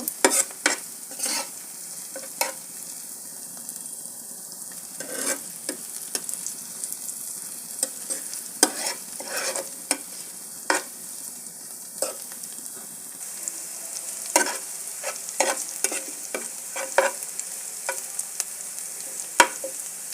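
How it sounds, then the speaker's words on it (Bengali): Cumin seeds fry in a pan with onions while a spatula stirs them, giving sharp scraping taps at an irregular rhythm over a steady soft sizzle, close and clear, with no talking. "এখন অল্প কিছু জিরা দেব আর একটু ভেজে নেব"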